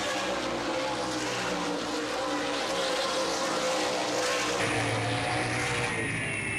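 Stock cars race at Baer Field Speedway during the Three Rivers Festival 100, a loud sustained roar of several engines charging down the track with a steady drone, no voices.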